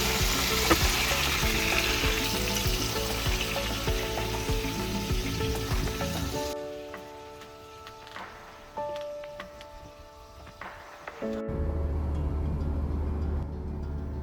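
Mountain trout frying in a pan on a camping road trip through Merke gorge; a loud, steady sizzle fills the first half, drops away to quieter sounds, then returns near the end.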